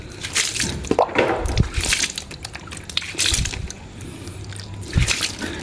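Water sloshes and splashes in short bursts, with a soft trickle and some squishy handling sounds close by as an Aglaonema Twister White is watered after repotting; no one speaks.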